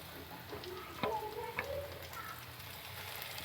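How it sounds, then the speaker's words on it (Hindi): KFC-style coated chicken pieces fry in hot oil with a steady close crackling sizzle, a few sharper pops and bubbling bursts rising as pieces are set in. "अब हम चिकन को ना फ्राई करने के लिए रख देंगे।"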